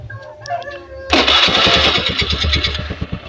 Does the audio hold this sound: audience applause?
no